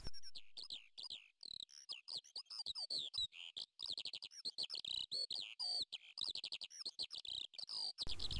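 Kestrels call near their nest on a rocky mountain cliff, a rapid series of sharp, high repeated cries and chirps in quick bursts, fairly close and clear against a quiet background.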